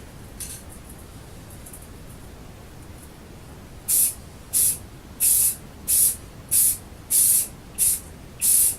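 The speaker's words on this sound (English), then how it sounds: "Lightly spray it just like you did your paint." A spray can applying light coats to a Mossberg Maverick shotgun, eight short sharp hissing bursts in a steady rhythm after a quiet stretch, loud and close with no talking.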